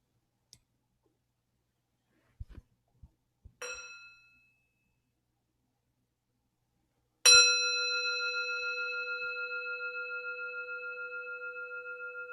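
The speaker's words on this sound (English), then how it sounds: "Let's have a sound of the bell." A mindfulness bell is struck once during a dharma talk after a few soft clicks and taps, ringing loud and clear with a long, slowly fading sustained tone in a quiet room.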